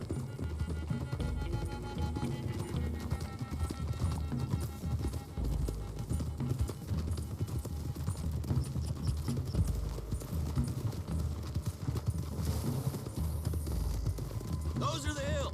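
In the video game Red Dead Redemption 2, several horses gallop in a rapid, continuous clip-clop of hooves under a group ride, with characters talking over the pounding throughout and a brief whinny near the end.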